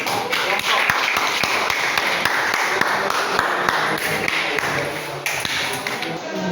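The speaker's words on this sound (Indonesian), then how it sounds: "Saya lagi tepuk tangan untuk kelompok" A group claps along with sharp, uneven hand claps at a moderate pace, close by, for several seconds.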